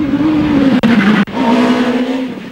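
Rally car on slippery, greasy asphalt at the 2004 Rallye du Condroz, engine roaring close and loud with tires squealing and two brief cuts in power as it fights for grip.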